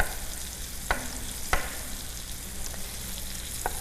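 Chicken for chicken marsala fries in a pan with a steady close sizzle, joined by a few sharp scrapes or taps of a utensil, with no one talking.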